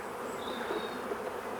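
Honey bees in a two-story hive stack hum in a close, continuous buzz, a dense insect drone lasting the short stretch with a few faint bumps and no talking.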